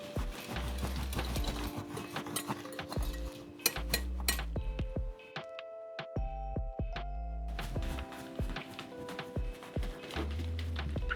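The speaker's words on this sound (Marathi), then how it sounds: "आता हे आपल्याला या स्टीममध्ये मेल्ट करायचं आहे आणि मिक्स होऊन द्यायचं" Chopped dark chocolate and fresh cream stirred in a bowl over steam, heard as repeated clinking and scraping of a utensil against the dish with a steady kitchen hum, close and clear, pausing briefly midway.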